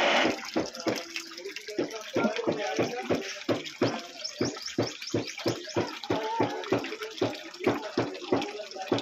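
A Jetmatic water pump sends water splashing out in regular rhythmic surges, each stroke a distinct gush repeating steadily at close range, loud and alone.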